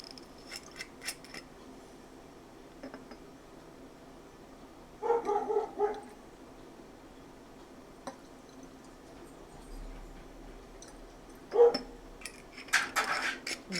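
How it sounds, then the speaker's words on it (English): A next-door neighbor's dog barks in two short clusters of a few quick barks, heard at a distance against a quiet room, with long stretches of near silence between them. "The next door neighbor's dog is going to put their 2 cents worth in."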